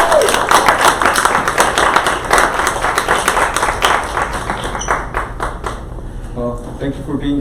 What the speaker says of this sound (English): I want y'all to put a big round of applause